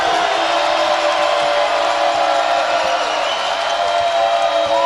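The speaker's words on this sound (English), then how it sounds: "The crowd let them hear it." A basketball arena crowd roars in a steady, dense wash of cheering and shouting, loud and sustained throughout without a break.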